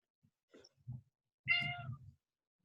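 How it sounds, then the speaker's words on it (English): A house cat gives a few soft, low mews, then one clear, close meow with a rising, tonal cry, all in an otherwise quiet room. "I think you heard my cat."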